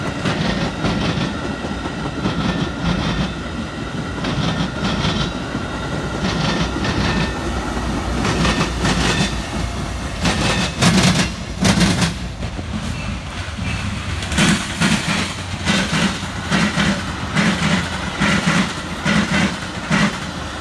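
An inbound Metra commuter train led by an F59PHI locomotive, an ex-Amtrak unit, passes close by on the Milwaukee District West Line, its wheels beating a loud repeating clickety-clack over rail joints throughout.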